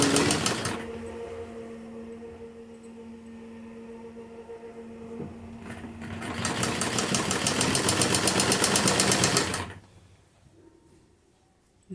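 A sewing machine stitches half-inch pleats on a kurti, with a low motor hum and scattered clicks, then a rapid, rhythmic burst of stitching that builds and stops abruptly.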